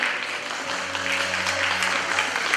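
An audience at a ceremony honouring winners of district informatics olympiads breaks into applause, a steady patter of clapping over a low, sustained hum in the hall.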